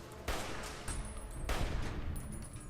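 Bursts of gunfire and blasts from the video game Fallout: New Vegas, several sharp onsets over a continuous roar of battle, loud and close, with no talking.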